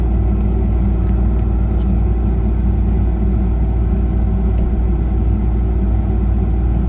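Excavator diesel engine running close and loud during a counter-rotate maneuver, a constant deep rumble with steady low throb and no pauses, no voices.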